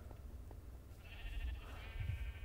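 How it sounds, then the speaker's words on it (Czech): Sheep bleating inside a video game server, a wavering mid-pitched call starting about a second in and holding to the end, alone over a low steady background rumble. "Ovce, jasně."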